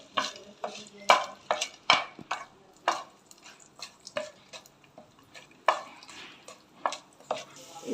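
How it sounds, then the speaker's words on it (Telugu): Chana dal and urad dal fry in a little oil while a spoon scrapes and taps the pan in quick irregular strokes over a soft, low sizzle. "కొంచెం శనగపప్పు, మినప్పప్పు, కొంచెం వేపుకోవాలి"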